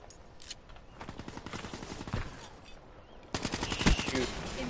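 Rapid annihilator gunfire in a video game rattles in quick bursts, growing louder and denser toward the end with other game sounds mixed in.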